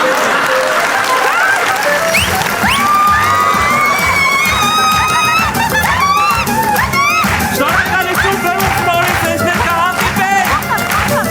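A studio audience applauds the Women's Club performers with sustained, dense clapping, cheers and whoops, loud and continuous throughout.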